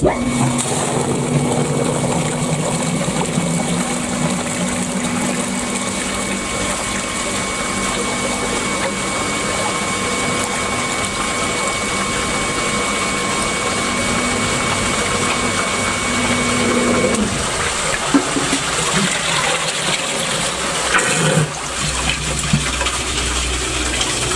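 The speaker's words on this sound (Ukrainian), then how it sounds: "При кожному запуску у нас проходить через сажовий фільтр 200 літрів води." Water pumped at high volume through the diesel particulate filter of a BMW X5 with an N57 diesel engine during a washing process, a steady loud gushing pump drone with a tonal hum that shifts and cuts off near the end.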